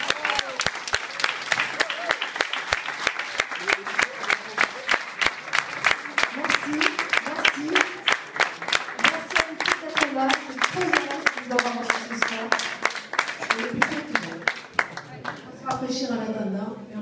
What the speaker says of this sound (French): Je voudrais qu'on applaudisse très fort Madame Angèle Melconian.